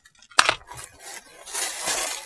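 Small nail decoration crystals clink and rattle inside plastic packaging, a sharp tick followed by scattered light jingles and a rustling shake near the end.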